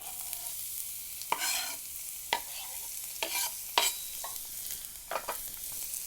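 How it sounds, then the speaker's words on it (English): Sage and garlic sizzle in hot oil in a pan, a soft steady frying hiss broken by several brief louder bursts as the pan is stirred, with no speech. "That sizzle."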